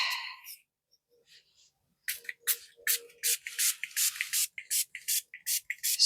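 A spray bottle is pumped onto a resin craft piece in a quiet room, a rapid series of short, close hissing bursts, about a dozen in uneven rhythm, after a brief pause.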